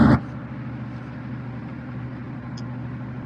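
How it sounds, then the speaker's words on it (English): A steady low rumble of road and engine noise from inside a moving car, continuous and even after a brief louder burst at the start. "Sound like you in the car, bro."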